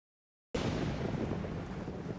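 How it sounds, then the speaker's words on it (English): Rainfall in the video game Genshin Impact: after half a second of silence, a steady, even hiss of rain cuts in abruptly and holds at a constant level to the end. "The sound of rain masks the enemy's footsteps."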